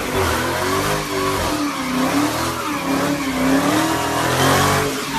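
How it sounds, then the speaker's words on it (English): A front-wheel-drive car fitted with a swapped Hellcat engine does a big burnout, its engine roaring and revving hard over continuous screeching tire squeal, loud and close throughout, with no voices. "It definitely was, especially when I did massive burnouts like this."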